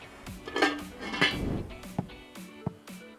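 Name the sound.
lid being put on a cooking pot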